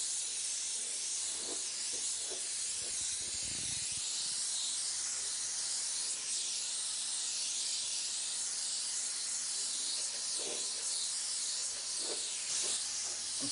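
A touch-up spray gun hisses steadily as it sprays paint, a continuous close airy spray lasting throughout with faint bumps in the background.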